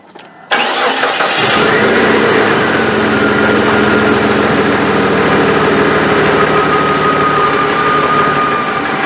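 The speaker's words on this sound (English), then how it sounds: "I can't really hear it when it's idling like this" Jeep Cherokee with noisy power steering cranks and fires up, then settles into a loud, steady idle with a faint whine running through it, close by with no talking.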